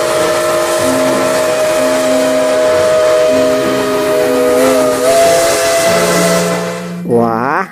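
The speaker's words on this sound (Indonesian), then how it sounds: "Toy Train." A sustained, loud toy steam train whistle in a video game blows with a breathy hiss over a chord of held tones, ending in a quick sliding pitch drop.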